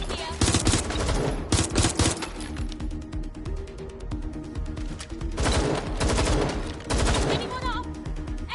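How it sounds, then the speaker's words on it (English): Gunfire in a PS4 shooter video game comes at the player in dense, loud bursts and rattling volleys that start and stop across the stretch, with a brief voice under the shots. "Getting shot at here."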